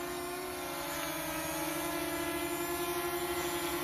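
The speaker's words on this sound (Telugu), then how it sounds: "సో డ్రోన్ చూడండి, చాలా అంటే చాలా స్టెబిలిటీగా ఉందండి." A GPS quadcopter drone's propellers hum with a steady, high-pitched buzz throughout, holding an even pitch while hovering nearby, with no talking.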